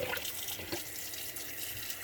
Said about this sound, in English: As I'm turning on the water